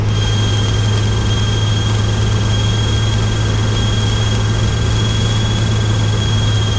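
Steady, loud drone of a Cessna's propeller engine on final approach for a touch-and-go with 10 degrees of flaps, with a constant low hum and broadband cabin noise throughout and no talk.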